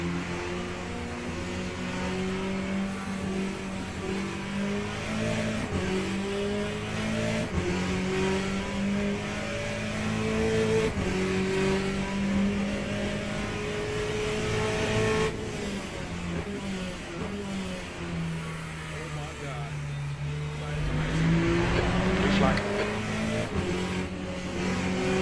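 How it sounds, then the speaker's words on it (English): Race car engines in the Le Mans Ultimate sim game, a steady loud multi-car drone with shifting revving pitch as a faster car approaches and passes, some gear changes, no talk. "There's a faster car approaching."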